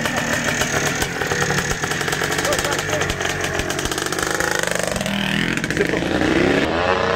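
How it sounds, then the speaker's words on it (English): A restored 1984 Yamaha YZ465 two-stroke dirt bike, running with slightly rich jetting, crackles and revs loudly up close in a choppy, uneven rhythm, with voices faintly mixed in. "They say this is the most violent of the Yamaha YZs from that era, the 465. Sounds like the jetting's a little fat"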